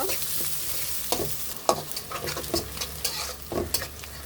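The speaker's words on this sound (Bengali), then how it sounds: "পেঁয়াজ কুচি দিয়ে দিচ্ছি আমি পেঁয়াজগুলো বেড়ে মানে হালকা বাদামি করে নিব" Chopped onions fry in a pan for beef kala bhuna with a steady close sizzle and repeated stirring scrapes and taps throughout. No voices are heard.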